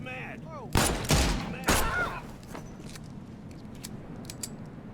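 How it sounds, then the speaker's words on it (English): Gunfire sounds in The Sinking City video game, three loud, heavy shots about half a second apart. A quieter mechanical clatter and faint game sounds follow. "Stop running towards the gunfire."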